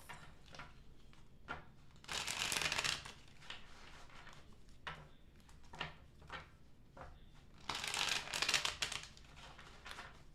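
Tarot cards are shuffled by hand in soft, faint rustling bursts, with two longer riffling flurries and scattered small taps between them.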